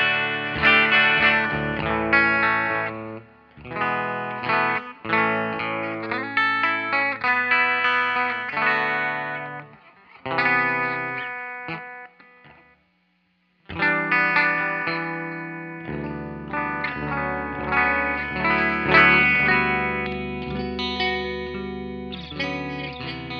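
An electric guitar played in drop D through Neural Amp Modeler with a distorted amp tone and added room reverb, loud strummed chords and riffs ringing out, with one brief near-silent gap midway.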